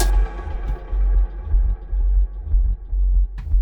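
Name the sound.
raw pitched-down resampled DYAD synth clip for sub bass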